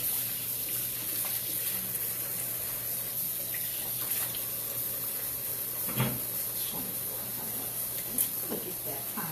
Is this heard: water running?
yes